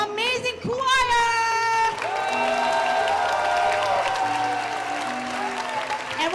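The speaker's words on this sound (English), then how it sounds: "And we're gonna give a round of applause," An audience at a school annual day applauds and cheers for a Grade 5 choir, with loud sustained clapping, whoops and children's voices alongside a shouting voice.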